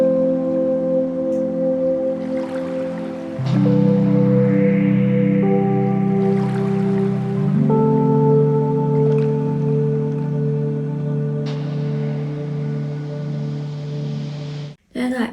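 Spacey lofi track with guitar, heavy reverb and scratching textures, sustained chords shifting every few seconds at steady moderate loudness, ending with a brief dropout.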